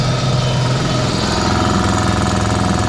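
An air compressor near its 150 PSI limit, powered by an 8000W inverter, drones loud and close as a steady, rough mechanical hum with a throbbing motor pulse.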